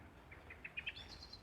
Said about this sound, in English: that was a blackbird alarm call